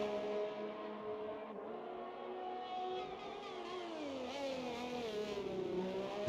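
Alfa Romeo Formula 1 car on a hot lap at the Austrian Grand Prix in a racing video game, its high engine note climbing and dipping steadily through gear changes, with a continuous whine and no talk.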